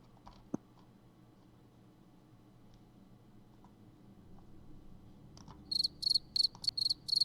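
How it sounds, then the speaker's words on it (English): Crickets chirp in short, rapid pulsed bursts that start after a near-silent stretch, repeating five or six times in quick, evenly spaced trills toward the end. "Crickets, I know, right?"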